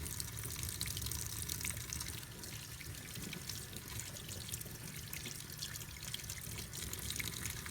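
Tap water running over a gold-plated Apple Watch being washed with mild dish soap, a quiet steady stream splashing and dripping into a sink, close but faint with no voices.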